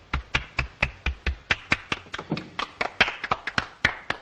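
Slow, steady hand clapping from a small group in a 1932 mystery-horror film scene, a couple of dozen distinct claps at a measured even pace, fairly close and alone with no talk over them.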